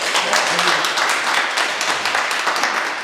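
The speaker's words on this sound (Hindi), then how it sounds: "एक बार उनके लिए जोरदार ताली बजा दें" A crowd at a Hindi poetry gathering applauds loudly, a dense steady wash of clapping filling the whole stretch without pause.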